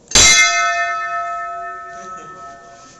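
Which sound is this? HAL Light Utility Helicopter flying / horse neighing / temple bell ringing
temple bell ringing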